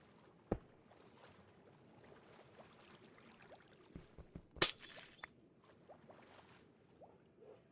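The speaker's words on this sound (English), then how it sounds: "They subscribe to see us breaking and placing glass to fit so we can drain out an ocean monument" Glass blocks shatter in the Minecraft video game while draining an ocean monument, with one sharp crash standing out amid a few smaller clicks and knocks over a quiet background.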